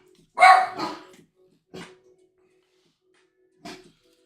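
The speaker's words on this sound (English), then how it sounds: "What are you barking at?" A dog barks nearby: a loud double bark, then a single bark, and another after a pause, with quiet in between.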